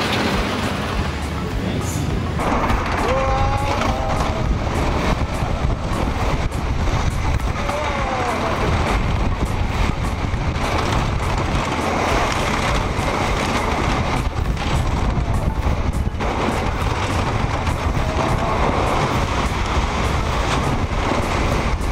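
Texas Stingray wooden roller coaster at SeaWorld San Antonio rumbling and clattering along its track, a loud continuous roar with rattling and whooshing, riders' voices faintly mixed in.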